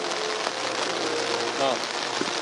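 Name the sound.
heavy rain falling during an evening parade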